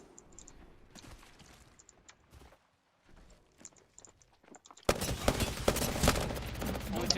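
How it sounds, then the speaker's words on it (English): Gunfire in a shooter video game: scattered faint shots and ticks over the first seconds, a brief near-silence, then a sudden loud burst of rapid fire from about five seconds on. "Taking fire, brother."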